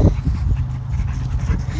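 A dog pants rapidly up close at a park in Floral City, Florida, breathy rhythmic huffs mixed with brief high whimpers, fairly loud and with no talking.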